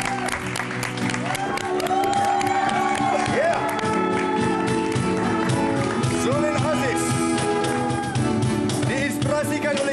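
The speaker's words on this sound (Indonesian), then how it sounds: "Kita berikan tepukan untuk Zulid Aziz." Applause and scattered cheers from an audience at a fashion show, running under loud music and an announcer's voice.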